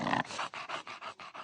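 An English Bulldog panting close by in rapid, rhythmic huffs, about eight raspy, snorting breaths in quick succession, fairly soft and with no talking.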